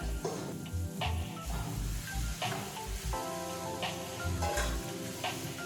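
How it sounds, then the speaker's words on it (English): Fried rice, about two and a half cups, hits a hot frying pan and sizzles loudly and steadily at close range, with a few scraping knocks of a utensil against the pan over the constant hiss. "so now we're gonna put in the fried rice"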